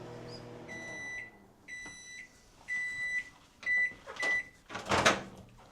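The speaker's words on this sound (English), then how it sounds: "3 minutes in my microwave was perfect for cooking" A microwave oven set on high for peanut brittle beeps through a run of clear, high, repeated tones, followed by the clunk of its door opening and some rattling.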